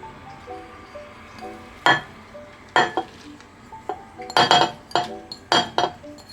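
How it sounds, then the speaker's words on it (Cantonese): Several sharp clinks and clatters of soup ingredients being tipped into a soup pot, spaced irregularly, with soft background rustle and no speech. "就可以將全部材料放入個湯煲裏面"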